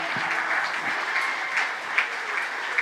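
Applause from a church congregation at a prayer service thanking God, a dense, continuous wash of many hands clapping at once, fairly loud and sustained throughout.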